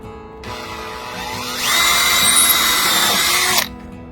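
Power drill boring holes in building a storage shed for an e-bike: the motor whirs up, its pitch climbing as it bites, holds a loud steady whine at close range, then cuts off sharply, with no talking.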